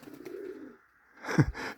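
Flying pigeons give a low, soft coo, followed by a brief burst of wing flapping or movement, close by with no talk.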